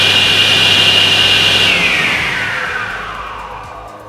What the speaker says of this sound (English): when you start the saw, the green button should be depressed and held until the saw blade is up to its standard running